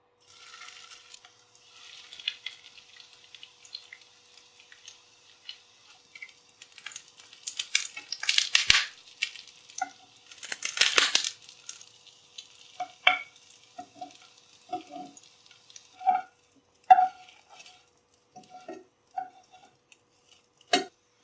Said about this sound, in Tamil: இப்போ எண்ணெய் சூடாயிடுச்சு. மீடியம் ஹீட்ல வச்சுக்கோங்க. இதை ஃப்ரை பண்ண ஆரம்பிக்கலாம்.